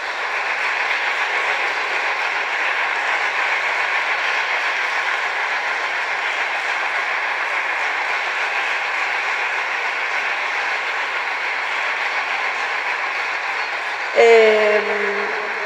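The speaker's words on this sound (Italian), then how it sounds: "quindi ancora un caloroso applauso per Sara Maria Pilvax" An audience at an organ festival concert in a church applauds an organist with steady, dense clapping that holds at an even level throughout, ending with a brief thud near the close.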